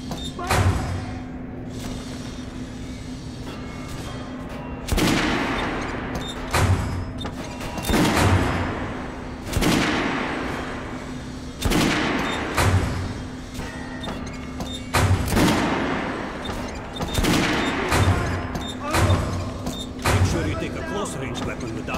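Weapons fire at a shooting range in Metro: Last Light Redux, with sharp shots sounding every second or two, some in quick pairs, over a steady low hum while a voice talks between them.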